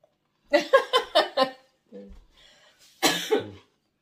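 A short run of rough coughs in quick succession, close up, followed by a brief breathy sound and a final cough.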